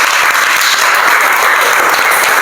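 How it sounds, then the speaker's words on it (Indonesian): Loud, continuous applause from a crowd, a dense clatter of clapping that stays steady throughout. "Tepuk tangan buat kita"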